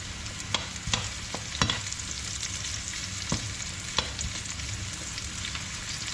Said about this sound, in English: I'm gonna add my pepper in now.